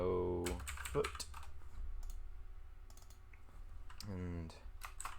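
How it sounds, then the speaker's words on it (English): A computer keyboard is typed on in short bursts of light clicking keystrokes, close and fairly quiet, with a person talking intermittently over the typing. "Now we're going to type in what we chose"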